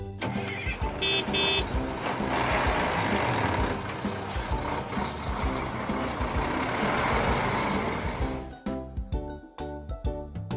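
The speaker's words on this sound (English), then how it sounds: "garbage truck" A garbage truck running close by with a rumbling engine and a bright, regular reversing beep, loud and steady before the engine noise cuts away near the end.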